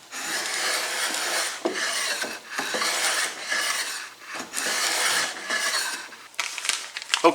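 A freshly sharpened blade shaving through wood in long, rasping strokes, several close scraping passes separated by short pauses, with no talking.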